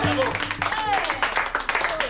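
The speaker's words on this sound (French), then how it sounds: "on peut donner une bonne main d'applaudissement à Théo" Applause breaks out for the best goalkeeper of a match, a short burst of clapping with voices and a whistle-like tone sounding over it.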